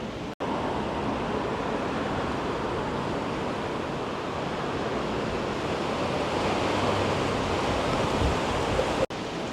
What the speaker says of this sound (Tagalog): Lakas ang hangin kasi.